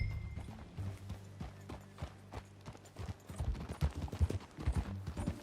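Rhythmic clip-clop of horse hooves at a steady riding pace in the video game Red Dead Redemption 2, close and fairly quiet, with a faint low hum underneath and no talking.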